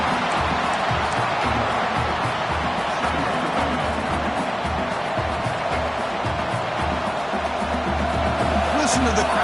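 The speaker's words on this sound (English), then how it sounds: "Listen to the crowd energy here in the early going." Dense, steady crowd roar fills a college football stadium in the early going of an Alabama game, holding at a loud, even level for the whole stretch with commentary voices running over it.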